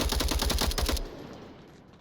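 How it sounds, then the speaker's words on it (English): A rapid burst of automatic gunfire rings out in the Onward VR shooter, about nine close, evenly spaced shots in roughly a second before it cuts to quiet ambience. "Gunfire coming out at the bottom now."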